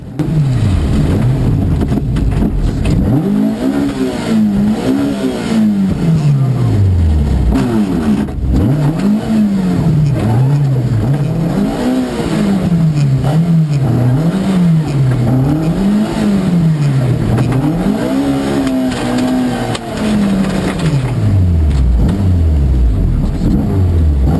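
Rally car engine revving hard and repeatedly in rising and falling surges, close and loud throughout, as the car spins and works to free itself on a snowy stage rally course.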